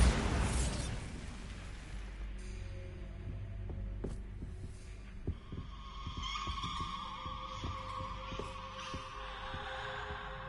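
A Bombarda explosion spell goes off in Hogwarts Legacy, a loud blast at the start followed by scattered thuds and crackles over a low rumbling game ambience.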